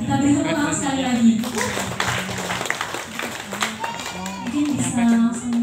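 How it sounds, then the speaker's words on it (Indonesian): Applause rises from the audience at a batik sarasehan held in Museum Singhasari, a steady spread of clapping lasting several seconds with voices talking over it. "kita beri tepuk tangan sekali lagi"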